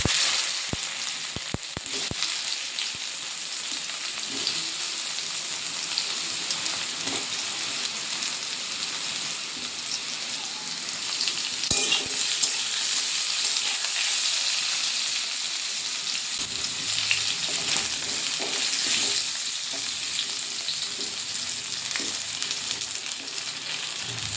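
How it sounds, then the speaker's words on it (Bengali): Potatoes fry in hot oil in a wok, giving a steady, dense sizzle and crackle with occasional stirring scrapes and no voices. "প্রথমে আলুগুলো ভেজে নেব।"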